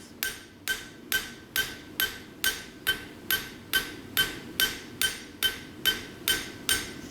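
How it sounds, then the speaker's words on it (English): Steady hammer blows ring on metal, about two per second, each a sharp clang with a short ringing tail, close and regular. "Now if you're noticing the angle that my hammer blow is coming in"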